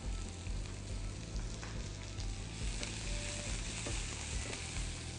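Onions sizzle loudly and continuously in a hot pan, a dense steady crackle with occasional stirring scrapes, no voices.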